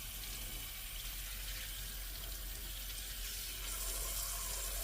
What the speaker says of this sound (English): Rinse all soap thoroughly from wrists, hands, and fingers.